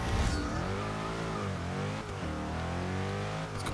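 A 2013 Mercedes-Benz E 63 AMG in the racing game Forza 6 revs loudly and steadily for several seconds, its engine note rising and falling between gear changes.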